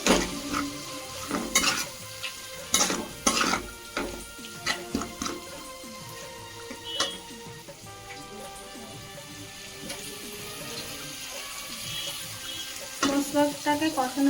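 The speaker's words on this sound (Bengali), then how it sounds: "দিয়ে দেবো স্বাদ মতো লবণ আর দিয়ে দেব পরিমাণ মতো হলুদ ভালো করে মিক্স করে নেব" Spices with salt and turmeric stirred in a frying pan, a soft sizzle under repeated sharp scrapes and clinks of a utensil against the pan, some bursts louder than others, with quieter stretches between.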